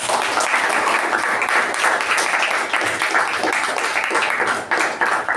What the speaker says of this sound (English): Let's give him a resounding round of applause.